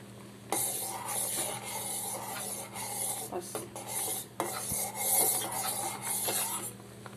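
Thin semiya vermicelli cooking in a pan for a curd bath, with a steady soft rasp and scrape of stirring repeated over a low continuous hum, fairly quiet and close.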